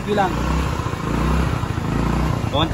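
A Rusi Passion motorcycle engine idling smoothly with no misfires, a steady close low rumble while someone talks over it.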